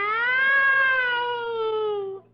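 A single drawn-out meow made by a human voice imitating a cat, close and clear, slowly falling in pitch before ending.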